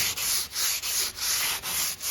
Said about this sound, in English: You just have to sand it evenly.